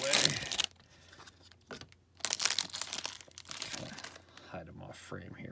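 A sealed foil wrapper on a 2018-19 Upper Deck Black Diamond hockey card pack being torn open, with close crinkling and tearing in bursts and someone talking quietly in between.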